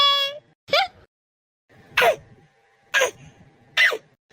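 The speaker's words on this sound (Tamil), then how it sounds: "இது ஒரு அண்ணனுக்கு விக்கல் எடுக்குது," Three short, sharp hiccup-like bursts spaced about a second apart, close and fairly loud, following a brief vocal sound at the start.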